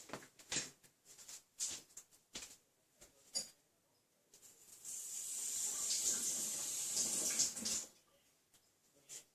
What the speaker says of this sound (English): And just give it a little rinse.